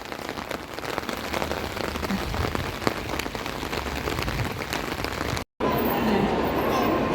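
Heavy rain pours down in a steady, dense hiss on surfaces close by, loud and unbroken, briefly cutting out near the end before resuming.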